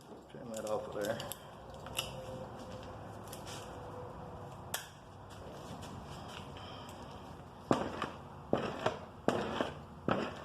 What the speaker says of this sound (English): You got a little bit of freezer burn on them ends, but I can cut that off.